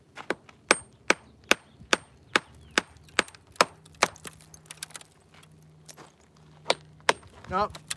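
A rock hammer strikes Roza basalt at Frenchman Coulee in a steady series of sharp, ringing metallic clinks, about a dozen hits, ending with a brief voice.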